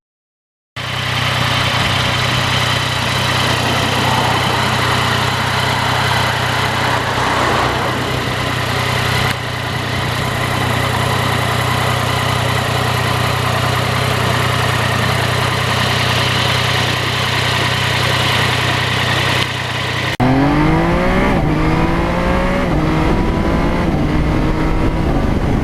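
A 2020 Yamaha MT-09 motorcycle engine drones steadily while riding, a loud sustained hum with wind rush, then shifts near the end into rising pitch sweeps as it accelerates through the gears.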